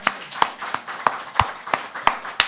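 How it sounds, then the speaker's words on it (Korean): Slow, evenly spaced hand claps, about eight sharp beats in a steady rhythm, fairly close and alone without talk, as a church congregation is led in a round of applause to glorify God after a sermon on Romans 4. "우리를 복주신 하나님의 영광의 박수 한번 올려드립시다"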